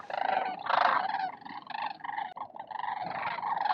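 Thousands of cranes call together in one place, a dense, continuous chorus of overlapping rattling cries swelling and dipping without pause.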